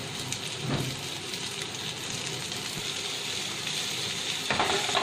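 Potatoes for achari aloo being stirred in a pan, a steady broadband sizzle and scrape running throughout with a couple of louder scraping knocks, no voices.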